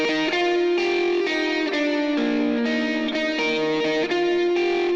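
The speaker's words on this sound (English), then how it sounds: "with the guitars on guitar 1, I ended up creating this lead line over here." Distorted electric lead guitar line with chorus and reverb effects in a mix of a cover of a worship song, a sustained, continuous melodic part at steady loudness with no voices.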